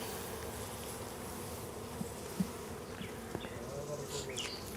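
Honeybees working at a hive during beekeeping: a dense, continuous buzz of many insects close by, steady throughout, with a few faint handling clicks and no talk.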